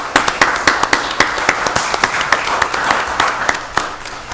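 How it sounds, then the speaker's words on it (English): An audience at a county board of commissioners meeting applauds, a room full of hand claps with sharp individual claps standing out, sustained and fairly close throughout. "Let's give them another round of applause."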